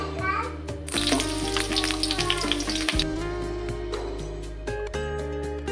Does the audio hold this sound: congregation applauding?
no